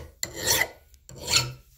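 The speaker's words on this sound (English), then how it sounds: "Just a little bit of cleanup. Deburr it somewhat here." A hand file deburrs a freshly drilled hole in a metal steady rest for a lathe, two short rasping strokes in quick succession, close and loud with a pause between them.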